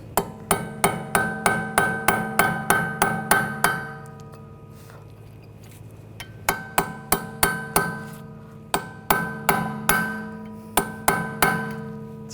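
Sharp metallic hammer blows on the rear wheel hub and axle nut of a 2013-2022 Buick Encore during a wheel bearing replacement, struck in two rapid runs of about fifteen and ten hits with a pause between, close and ringing.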